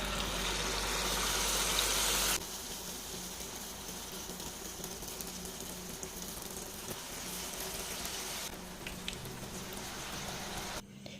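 Banana fritters (pazham pori) dropped into hot oil give a steady, even sizzle and crackle throughout, with a louder burst at the start and no talking.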